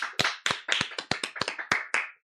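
A church congregation claps in unison to give glory to God during a Sunday service, about ten sharp, evenly spaced claps in a quick rhythm, close and loud, then silence.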